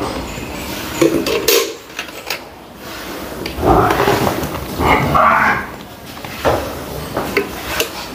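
Buffalo milk being poured back and forth between containers to mix it after milking, with sloshing splashes in a few bursts and metal clanks and knocks from the vessels, close by and moderately loud.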